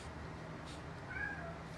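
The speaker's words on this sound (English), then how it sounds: "Look at my cat, Lola." A house cat lets out one short, faint meow over steady background hum in a kitchen.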